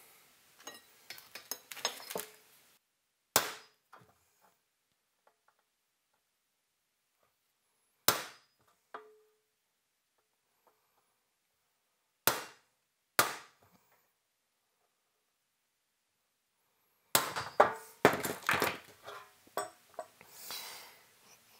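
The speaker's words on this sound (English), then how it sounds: "we're going to mark all these holes, or center punch all these holes" A hammer strikes a center punch into metal to mark holes for a tube ring, with a few sharp isolated taps spaced seconds apart and quieter handling noises in between, close and alone.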